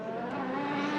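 ELMS race car at Le Castellet, the Nielsen Racing entry, droning in the pit lane with a steady, harmonic-rich engine note, close and slowly building over about a second.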